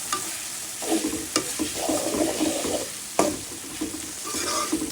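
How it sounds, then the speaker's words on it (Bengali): Eggs and whole green chilies sizzle in a pan while being stirred, the steady frying crackle broken by scraping strokes and a couple of sharp knocks of the spoon against the pan. "গোটা কাঁচামরিচ দিয়ে দিলাম,"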